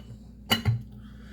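A saucer set down over a bowl of hot, freshly boiled French onion soup topped with cheese gives two quick ceramic clinks close by, the second slightly heavier, then quiet.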